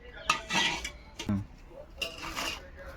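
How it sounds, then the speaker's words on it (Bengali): A metal khunti scrapes and clanks against a pan while meat is stirred and lifted, giving several close, irregular metallic scrapes with a voice speaking underneath. "এই খঞ্জি দিয়ে একটু নেড়ে চেড়ে তুলে নেবো"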